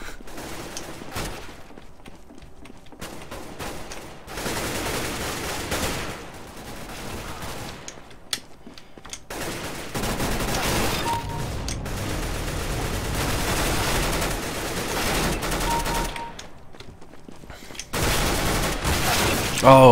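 Gunfire from CS:GO Arms Race, played as repeated bursts and volleys separated by short quiet gaps, fairly loud and steady throughout.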